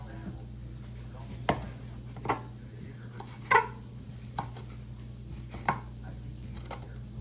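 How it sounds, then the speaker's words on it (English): A knife cuts sausage on a board, giving a few separate, fairly quiet chops spaced a second or so apart over a low background hum, with faint voices nearby. "So then we take the sausage and we're gonna cut it up as well."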